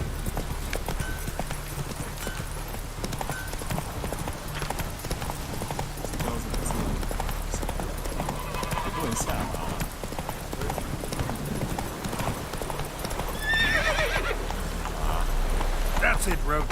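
Roach the horse gallops with rapid, rhythmic clip-clop hoofbeats throughout, close and steady, with a brief higher whinny-like call near the end and a voice talking at times.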